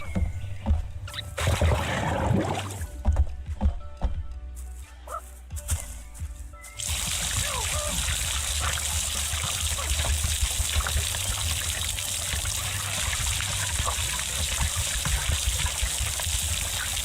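Crops being watered in Farming Simulator 22, a steady trickling, splashing water sound that starts abruptly partway through and runs continuously, preceded by other game sounds and faint bird-like noises.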